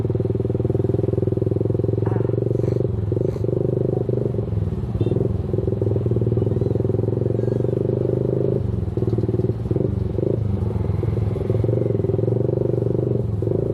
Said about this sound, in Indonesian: itu motor R15 masih ada tuh. Sama dia juga berhenti di lampu merah